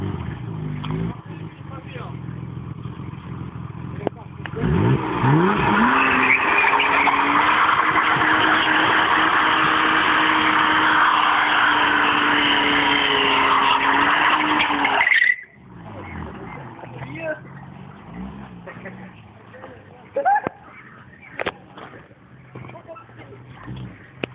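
A BMW 528 E28 with an M30B28 engine does a burnout. The revving engine and a sustained, loud tire squeal run for about ten seconds, then cut off abruptly, and people talk before and after.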